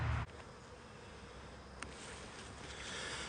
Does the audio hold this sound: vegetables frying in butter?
no